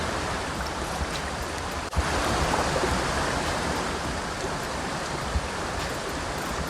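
A stream flows with a constant, even rush of water, broad and unbroken, with a single soft knock partway through.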